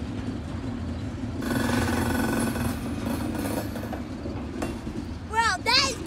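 A CSX freight train with a bad wheel rolls past with a steady rumble and rhythmic clanking from the rails. High squeals and whistling bursts rise near the end, and voices can be heard nearby.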